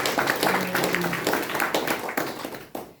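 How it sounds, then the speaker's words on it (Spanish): An audience claps for a guest speaker, a moderate stretch of scattered, uneven handclaps that thin out toward the end, heard at mid distance in a room. "Un fuerte aplauso, por favor."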